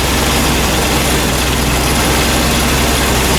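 A Triumph TR3 engine fitted with a Lucas distributor runs at a steady, loud idle close by, a continuous rough rumble with no talking.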